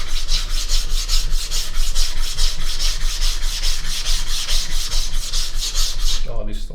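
A kitchen knife being sharpened on a smooth 3000 grit whetstone, with steady rhythmic back-and-forth scraping strokes, loud and close, running continuously with no talking before a brief clatter at the end.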